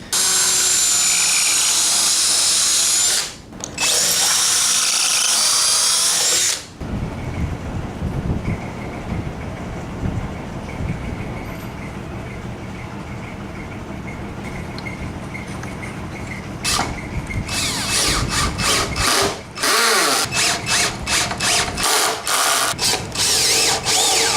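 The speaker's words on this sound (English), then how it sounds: "I'm going to use pocket holes along the center of the tabletop to glue and screw them together." A power drill drives pocket hole screws into a poplar tabletop, a loud steady whir that runs for several seconds, breaks off briefly, then gives way to quieter workshop noise and more short bursts of drilling near the end.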